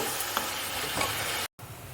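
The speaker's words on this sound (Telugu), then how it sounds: "ఇప్పుడు ఆనియన్స్ మగ్గేదాకా వేగించేసుకోవాలి బ్రౌన్ కలర్ వచ్చే వరకు గోల్డెన్ కలర్ వచ్చే వరకు వేగించేసుకుందాము" Onions frying in a pan for pepper chicken, a continuous close hiss and crackle with a brief stir scrape, then a short cut of silence before the sizzle resumes.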